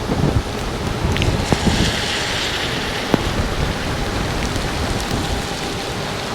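A rain storm sweeps over an E300 electric scooter ride around Lake of the Isles, with steady heavy rainfall hissing across the whole clip, strong gusting wind and a few sharp spattering hits.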